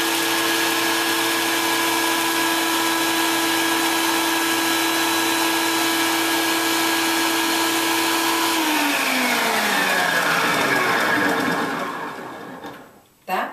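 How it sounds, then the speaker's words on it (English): Food processor blending pine nuts for pesto, a loud steady motor whine with harmonic hum that runs continuously, then winds down as the motor switches off, followed by a brief clunk. "I'm going to try it just to see if I can get them a little bit more blended up here"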